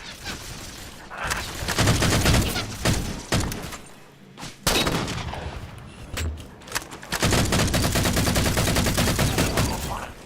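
Video game gunfire erupts in dense bursts and rapid automatic volleys, loud and close, with brief lulls between the barrages and a sniper rifle in play.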